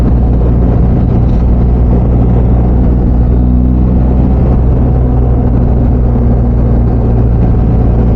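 A BMW R1250GS Adventure motorcycle pulls hard in fourth gear, its low engine drone steady and loud under heavy wind rush, with no talking.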